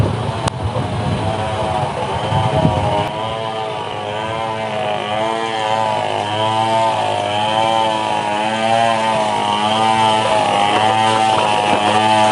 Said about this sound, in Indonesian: Kedengarannya seperti suara mesin senso ya, mesin untuk nebang kayu.